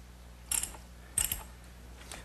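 A ratchet tightens carriage bolts through a wooden outdoor chair's cross member and arms, making two short bursts of quick clicking close by and a fainter third near the end.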